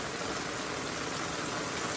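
Heavy rain pounds down with water rushing and streaming, a dense, steady roar that fills the whole moment without a break, close and loud with no voices.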